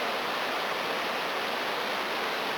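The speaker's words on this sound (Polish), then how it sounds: "posłuchajcie jak tutaj bardzo fajnie słychać rzekę" A river rushes in a steady, broad wash of flowing water, unbroken and fairly close, at a winter ski region in Rokytnice nad Jizerou, Czechia, with no voices.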